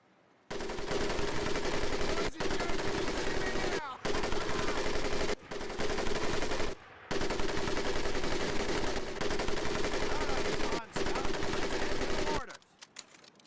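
A mounted machine gun roars in long, continuous bursts during a training exercise in Medal of Honor: Pacific Assault, loud and close, broken by brief pauses before the firing stops.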